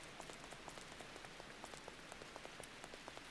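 Rain in the Stormworks: Build and Rescue game world, a soft steady patter with dense light drops ticking on a surface, faint and continuous, no voices.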